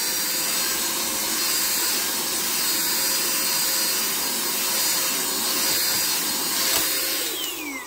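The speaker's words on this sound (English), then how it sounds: "there could be a little more suction power on this" A small handheld vacuum cleaner made for dusting bricks and figures runs with a steady, close whirring hiss and a thin high whine, tailing off at the end.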